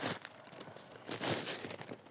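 Soft tissue paper crinkling and rustling in bursts as it is unwrapped, close up, with a couple of louder crumples near the middle; no talking.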